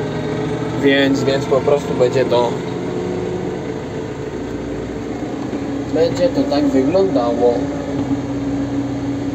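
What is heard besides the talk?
tractor engine idling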